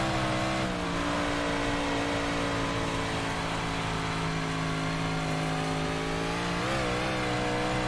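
Big block modified race cars roar around the Bristol dirt track in a racing game, with a loud sustained engine drone that holds steady and then dips and swells with throttle changes near the end.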